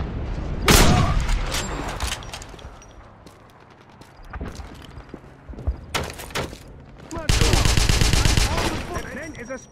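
Gunfire in the Wolfenstein game comes as loud close bursts and single shots, with a heavy blast early, scattered shots in the middle and a sustained rapid volley at the end, under battle noise.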